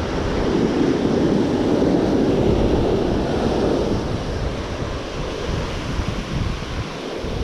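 Surf breaking on a beach at high tide where someone is fishing, a loud, continuous roar of waves mixed with gusting wind buffeting the microphone, easing slightly toward the end.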